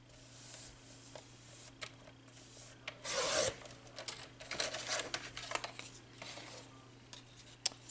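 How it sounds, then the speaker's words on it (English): Paper card stock being cut to size on a craft trimmer, a soft scraping, rasping glide with light rubbing and a few small clicks, quiet and close with no talking. "So we'll go ahead and cut our papers at 1 3/8"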